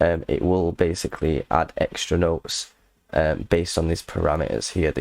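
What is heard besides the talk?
No distinct noise like a dog, phone or traffic.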